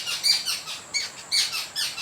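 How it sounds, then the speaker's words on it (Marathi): Several small birds in a guava tree chirp in quick, high-pitched bursts close by, their calls overlapping in an irregular, twittering rhythm. "आवाज ऐकू येत असेल तुम्हाला त्यांचा किलबिलाट"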